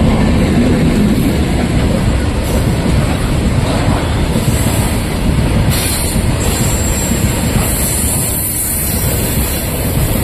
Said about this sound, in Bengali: ট্রেন যাচ্ছে, দেখো কত বড় ট্রেন, অনেক বড়।